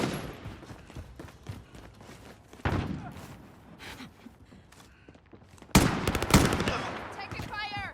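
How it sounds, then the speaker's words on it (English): Video game gunfire: scattered shots and bursts with heavy thuds, quieter at first then a loud close volley near the end, with voices heard amid the shooting. "Taking fire!"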